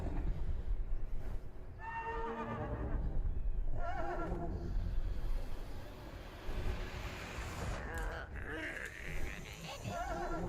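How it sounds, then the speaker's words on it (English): A horse neighs as part of a spell effect in the video game Wizard101, with a couple of whinnies rising out of a noisy, windy-sounding magical effect at moderate loudness. "And that horse sound?"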